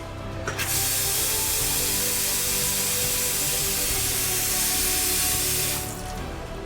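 Water rushing through a newly installed tankless water heater as the hot water valve opens, a loud, steady spraying hiss that starts abruptly and cuts off after about five seconds.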